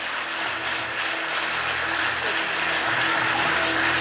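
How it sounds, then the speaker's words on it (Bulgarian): Steady, dense applause from a concert audience at a benefit event fills the hall, a continuous wash of many hands clapping without pauses. "Аплодисменти за всички тях."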